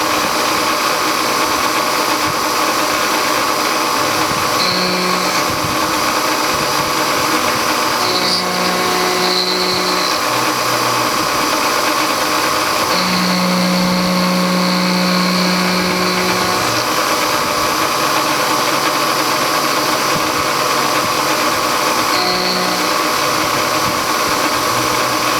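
A steady mechanical whine of a milling machine spot drilling a metal cylinder head, running continuously, with tonal hums shifting now and then as it cuts.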